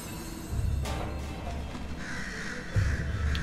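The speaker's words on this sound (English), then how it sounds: "I think we're evil crows." Crows in the video game Night in the Woods giving a few short caws over a low ambient rumble, moderately faint with a brighter hiss joining toward the end.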